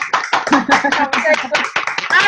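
Quick, close claps come in a rapid, uneven run on a webinar call, mixed with talking voices throughout.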